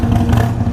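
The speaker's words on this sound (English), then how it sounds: "It revs." A Harley-Davidson Iron 883 motorcycle with a Vance & Hines exhaust revs briefly, a loud, close, throaty engine roar that holds steady for under a second.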